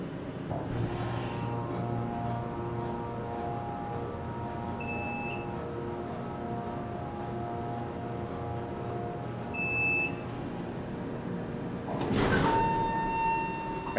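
Custom Otis Series 1 hydraulic elevator at a resort running with a steady low hum, two short electronic beeps along the way, then a door sliding open with a brief mechanical rush near the end.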